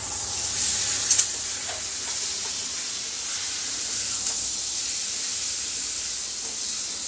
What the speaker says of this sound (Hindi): दोस्तों, 2 मध्यम साइज का टमाटर काटी हूँ, उसे मैं डालूंगी और इसे गलने तक मैं भूनूंगी।